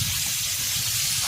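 Water poured into a pot of cooking chicken, a steady loud gushing hiss close by, continuous for about a second with no talking.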